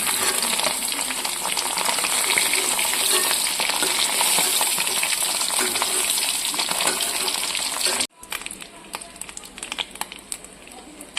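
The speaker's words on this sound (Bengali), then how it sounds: "সবজিগুলো ভেজে নেব" Mixed vegetables fry in a pan with a dense, close sizzle and occasional stirring for about eight seconds, then the sound cuts to a quieter, patchier crackle.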